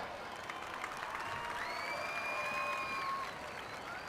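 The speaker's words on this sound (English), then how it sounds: "Let's give her a round of applause." Crowd applause at a high school event, honoring a student, heard faintly and at a distance as a steady rustling wash, with thin whistle-like tones gliding over it.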